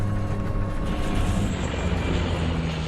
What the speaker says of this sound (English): a device called the stick shaker went off